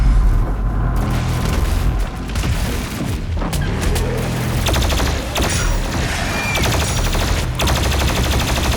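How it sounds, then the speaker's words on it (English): Plasma rifle in Doom Eternal firing in long sustained rapid bursts, loud and dense, layered with booming impacts and explosions from the surrounding combat. "The plasma rifle is so good."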